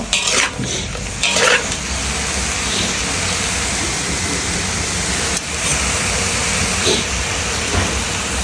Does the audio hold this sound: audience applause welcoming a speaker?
no